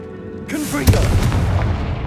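A Confringo fire spell explodes in Hogwarts Legacy, a loud booming blast that erupts suddenly and rumbles on, with a shouted voice over it.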